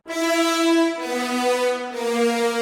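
An RER commuter train sounds a loud, sustained two-tone horn, a steady chord blast that dips in pitch partway through and continues for nearly three seconds with no voices.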